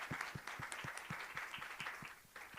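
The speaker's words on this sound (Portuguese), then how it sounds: "Palmas para o Matheus." An audience claps to welcome a guest panelist at a tribute event, a faint, evenly paced series of distinct hand claps heard from a distance with no talk over them.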